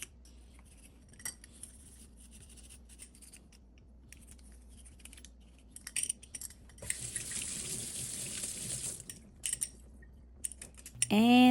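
Super fine steel wool scrubs metal furniture hardware in hot water mixed with equal parts vinegar, giving short scratchy bursts and then a steadier rasping stretch, close and fairly quiet, with light clinks and some water sounds.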